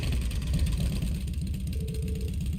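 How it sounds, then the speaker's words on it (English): Motorcycle engine in the video game Trails of Cold Steel, a steady loud throbbing rumble with a rapid pulsing rhythm throughout and a brief higher whine near the end, with no voices over it. "Right then, first is starting up the engine."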